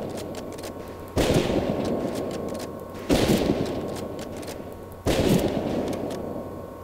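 Rifle fire at a shooting range in Medal of Honor Pacific Assault, three loud, evenly spaced booming shots about two seconds apart, each trailing off into a long rumbling echo, with no talking.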